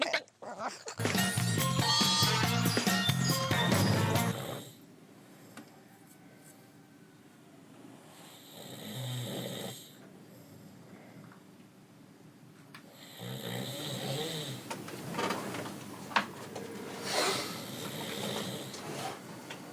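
A loud, close snore rasps at the start, followed by quieter stretches of breathing and faint background noise through the night.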